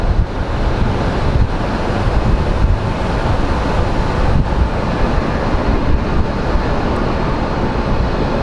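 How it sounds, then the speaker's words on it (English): Wind at Sky Harbor International Airport in Phoenix buffets the microphone in a constant loud rumbling roar lasting several seconds, with no voices. "We're getting a bit of a wind"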